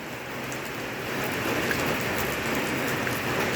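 Heavy rain falling outdoors, a dense, steady hiss of drops drumming on surfaces that grows slightly louder partway through and continues without a break.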